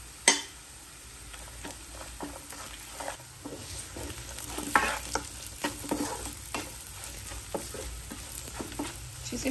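Dry coconut pieces and cashews fry in hot oil with a constant crackling sizzle, punctuated by frequent sharp scrapes and taps of a stirring spoon against the pan.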